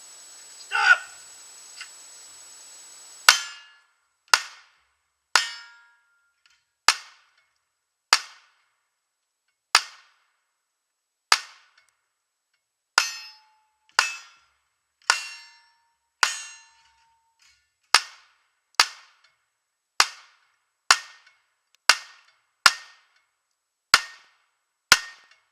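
Steel targets ring out from shots fired with a Remington 870 shotgun and 9mm pistols such as a Canik TP9SF and Springfield XDM; about nineteen sharp outdoor reports with metallic rings arrive one at a time at steady intervals, with no talking.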